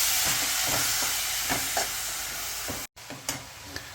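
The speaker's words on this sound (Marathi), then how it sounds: "तूप गरम झाल्यानंतर किसलेलं गाजर त्यामध्ये टाकून घ्यायचंय आणि हलवून घ्यायचंय, मिक्स करून घ्यायचं सगळं" Grated carrot stirred in hot ghee for carrot halwa, giving a steady close sizzle with rhythmic scraping strokes, broken by one short silent gap before the stirring resumes.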